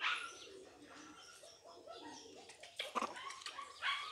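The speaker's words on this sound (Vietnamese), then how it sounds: "Chim đó là chim hót, chim cảnh." Birds call and twitter in a mix of chirps and coos, with a dog barking briefly and faint voices in the background.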